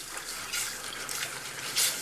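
Milk pours steadily into a thick savory sweet potato souffle base, a faint, continuous liquid trickle with soft splashy surges, heard alone at close range.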